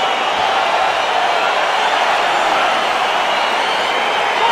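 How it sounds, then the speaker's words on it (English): An arena crowd in the UFC 4 fighting video game roars steadily and loudly as a Jose Aldo versus Pedro Munhoz bout gets underway, a continuous dense wash of cheering with no breaks. "crowd getting excited as this fight gets underway"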